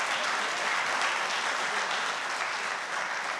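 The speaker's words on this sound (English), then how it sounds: "Really touched by the warm applause and the standing ovation." Standing ovation from a large audience at a function honoring a World Cup-winning cricket coach: thick, continuous applause at an even level from start to finish, heard slightly from a distance, with no talking.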